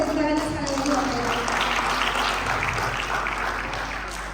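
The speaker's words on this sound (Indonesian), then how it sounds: "boleh tepuk tangan sekali lagi" An audience of students and parents at a school council inauguration in a governor's office applauds in a steady, moderately loud round of clapping that slowly fades, with a few voices mixed in.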